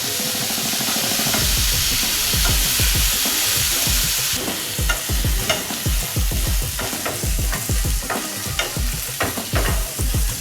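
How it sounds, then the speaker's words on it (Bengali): Chickpeas fry in a pan over low to medium heat, with a bright sizzle and rapid, rhythmic scraping from a spatula stirring them repeatedly, loud and close. "এই ছোলাটা এবার দিয়ে দেব। এটা 3 থেকে 4 মিনিট ধরে ভালো করে আমি ভেজে নেব"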